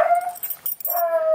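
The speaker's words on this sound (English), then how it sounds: "There's a dog barking." A dog barks and whimpers in short, yappy outbursts heard from near a 1974 Ford Pinto station wagon, the sharp calls close and fairly loud, coming in two bursts with a brief lull between.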